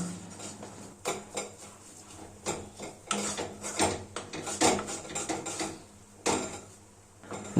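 Pointed gourd paste is stirred and fried in a pan, a spoon knocking and scraping against the metal in irregular clattering bursts over a faint low sizzle, with no voices.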